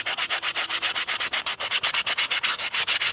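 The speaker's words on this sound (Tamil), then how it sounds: "உப்புத்தாளை வச்சே நான் தேய்ச்சிக்கிறேன்." Sandpaper rubs rapidly back and forth over a fake brick, a dry, raspy scraping in quick, even strokes, close and steady with no voices.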